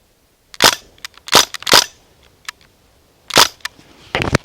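DPMS SBR BB gun fired in semi-auto, a string of sharp, loud individual cracks spaced irregularly, with a quicker cluster of shots at the end, close and dry.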